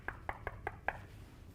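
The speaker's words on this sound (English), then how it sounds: "I'm going to knock on the patient's door to let them know I'm entering." Five sharp knocks on a patient's door in a care setting, evenly spaced and close, followed by quiet.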